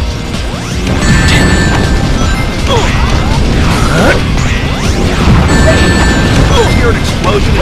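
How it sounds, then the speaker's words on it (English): Video game Shadow the Hedgehog: loud, dense game sound with repeated crashing impacts and rumbling debris falling over several seconds, with a steady thick roar underneath and scattered whooshing and mechanical clatter. "Hear an explosion and something falling."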